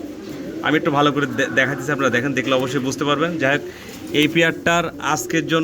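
Fancy pigeons coo at close range, low repeated throaty coos under someone talking over them.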